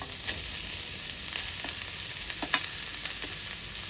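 Egg sizzles softly in a pan for chicken egg fried rice, a steady low hiss with a few light spatula taps and scrapes, faint and close, no voices.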